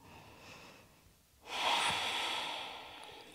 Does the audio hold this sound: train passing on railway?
no